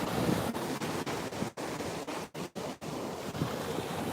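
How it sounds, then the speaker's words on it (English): Ocean surf breaking along a beach on a warm, steamy day, a steady broad wash of waves with gentle swells and a few brief dips, moderately near and unaccompanied by talk. "The waves sound great today too, don't they?"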